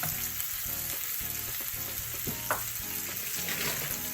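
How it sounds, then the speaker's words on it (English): Onions sizzle and fry steadily in a pan as a starter cooks down, a continuous close crackle with a few stirring scrapes and clinks partway through. "My pan's making a lot of noise here."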